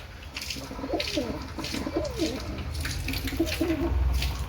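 Pigeons coo repeatedly at a backyard loft in rural Punjab, soft throaty calls rising and falling close by over a steady low hum of background noise.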